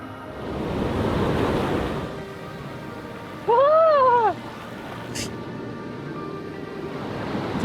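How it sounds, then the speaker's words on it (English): Surf rolling onto an Australian beach, a broad wash of breaking waves swelling and fading under wind noise, interrupted by a short warbling electronic tone partway through. "It's a pretty beautiful beach, although the waves are treacherous."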